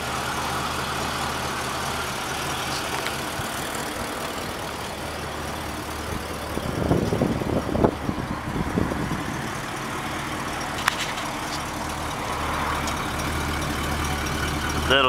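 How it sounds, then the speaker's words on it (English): Quiet, steady idle of a 1977 Ford engine on a cold start with stock exhaust, a low exhaust burble; a brief louder flutter midway and a faint click later. "it still has a stock exhaust on it, which is why it's so damn quiet."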